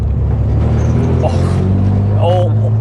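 Modified Renault Megane RS engine in sport mode roaring loudly with a steady low rumble inside the cabin, while people talk over it throughout.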